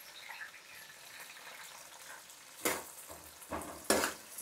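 Onion pieces and curry leaves frying in a pan as rice cooks alongside, a faint steady sizzle followed by a few louder bursts of stirring and spattering near the end.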